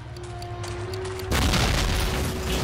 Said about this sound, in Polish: Okej, okay, wybuchło.